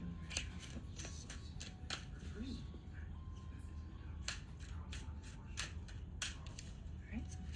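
A deck of oracle cards being shuffled, a series of crisp riffling snaps and flicks in an irregular rhythm, faint and close, over low room tone.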